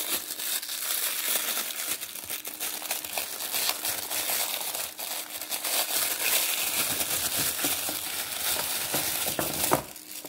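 Plastic packaging around washi tape sets is opened up close, giving a loud, continuous crinkling and rustling that runs throughout with a few sharper crackles near the end.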